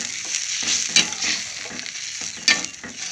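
A tamarind mixture simmers and sizzles in a pan while being stirred, a steady bubbling hiss broken by a couple of louder scraping strokes, close and with no talking.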